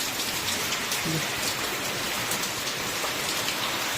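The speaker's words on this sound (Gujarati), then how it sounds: "બહુ વાદળું એટલું બધું છે નહીં છતાં વરસાદ આવે છે" Steady rain pattering on a surface, a dense continuous hiss of drops with no pauses, fairly close and even in loudness.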